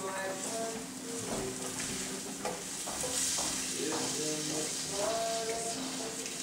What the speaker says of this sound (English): after adding the rice, you should keep stirring until the grains turn translucent.